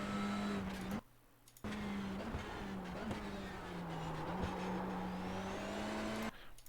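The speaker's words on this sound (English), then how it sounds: "Let's listen to the tires here." TCR touring car lapping Magny Cours with its front tires slipping: a steady engine drone with a faint squeal of tire scrub over it, plus brief dips in the engine noise, heard from onboard at a moderate level.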